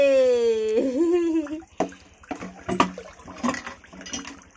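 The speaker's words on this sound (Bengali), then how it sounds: "তোমরা দেখতে পাচ্ছ কোথায় থেকে জল পড়ছে" Water pours and splashes steadily as a child sits and bathes, with a continuous gushing wash broken by small splashes; a voice hums or sings briefly at the start.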